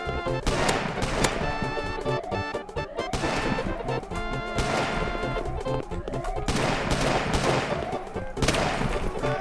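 Rapid bursts of gunfire from the Eagle gun in a Roblox shooter, dense repeated shots over game music and effects, loud and continuous throughout.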